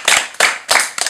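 Audience hands clapping at a comedy show: four sharp, close bursts of claps in quick succession, with no voices over them.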